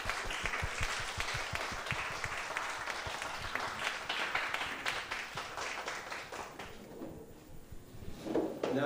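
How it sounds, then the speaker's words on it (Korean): A church congregation at a Sunday service gives a warm welcoming round of applause, dense steady clapping from many hands that fades out near the end. "우리 따뜻하게 환영의 박수 하도록 하겠습니다."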